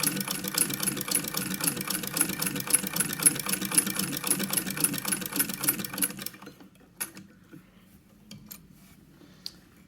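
A Singer sewing machine fitted with a buttonhole attachment stitches with a steady, rapid mechanical whirr and ticking for about six seconds, then stops, leaving a few faint clicks.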